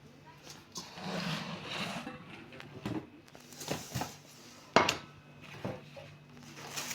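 Heavy metal pilaf cooking pots clank and knock against each other several times, irregular and fairly close, while a person talks quietly between the bangs.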